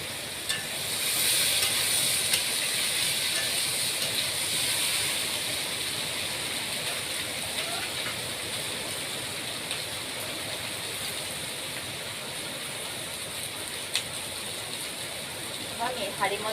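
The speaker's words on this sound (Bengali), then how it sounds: "আর এই যে বৃষ্টি হচ্ছে বাইরে" Rain falls outside in a steady, dense hiss that stays even throughout, slightly stronger at first, with a few faint knocks and clicks nearby.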